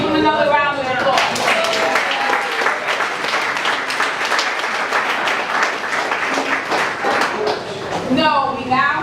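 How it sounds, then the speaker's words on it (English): An audience claps and applauds at a town hall meeting, a steady dense patter of many hands that holds for several seconds between brief bits of a man's speech at the start and finish. "Give him another round of applause."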